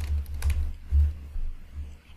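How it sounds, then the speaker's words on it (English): Short bursts of key clicks on a computer keyboard, close by, in an uneven rhythm with brief pauses between taps. "I'm just typing to rename these shapes."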